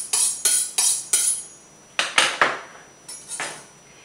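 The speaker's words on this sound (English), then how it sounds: "sharpen my knife" A kitchen knife is drawn repeatedly against a steel, giving bright metallic scrapes in quick groups of about four, then a pause and a few more strokes, close and clear with no talking.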